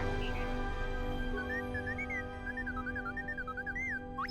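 The droid T-3 from Star Wars: Knights of the Old Republic 2 gives a string of warbling electronic whistles and chirps over a steady tonal hum, moderately loud and with no speech.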